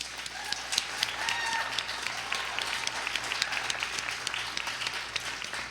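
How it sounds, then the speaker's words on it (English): Audience at a small health talk event applauding a presenter, a steady patter of many hands clapping for several seconds with no voices over it. "give her a quick round of applause"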